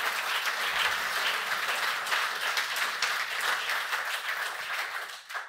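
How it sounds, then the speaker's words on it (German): Steady applause from an awards audience at a German runners-of-the-year ceremony, continuous dense clapping throughout, loud and fairly close, fading near the end. "Das hat noch einen Applaus verdient"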